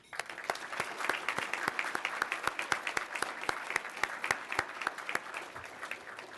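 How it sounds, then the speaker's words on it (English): An audience at a Day of Remembrance gathering applauds to honor Nisei guests, with sharp individual claps standing out in a steady, moderately sized round that keeps going the whole time. "Please join me in honoring them right now with a special round of applause."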